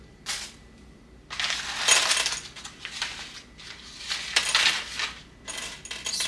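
Screws being sorted out of a cluttered junk drawer, rattling and clinking in several bursts of metallic jangling with short pauses between handfuls.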